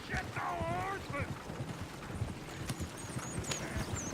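Horse hooves clip-clop at a steady walking pace in Red Dead Redemption 2, a soft rhythmic clatter under game ambience, with a brief whinny-like voice near the start and a few faint chirps later.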